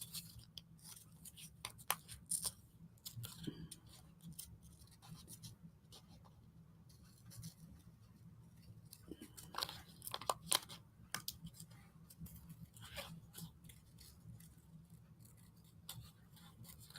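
Quiet snipping and scratching of scissors cutting out a paper sticker for an art card, in irregular clusters of short crisp cuts with pauses between, faint and close, no talking.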